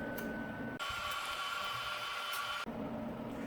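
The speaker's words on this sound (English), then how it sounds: "you need to pump air into this to enable the chamber to come out" Air vents into a scanning electron microscope chamber as a steady, loud broadband hiss that starts abruptly, holds for about two seconds, then cuts off, over a quiet mechanical hum.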